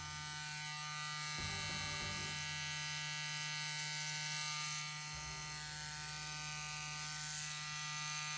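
A CNC wireless tattoo machine runs at its highest voltage, giving a steady high-pitched electric buzz with a brief handling knock near the start, faint and alone.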